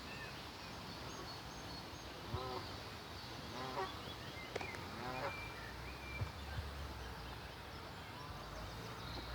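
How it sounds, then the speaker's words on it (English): A goose honks in a park near a small island on a quiet morning, giving a few short, faint calls spaced a second or so apart over soft background noise. "Goosey. Yes, what do you want"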